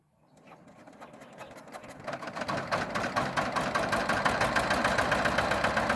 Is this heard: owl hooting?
no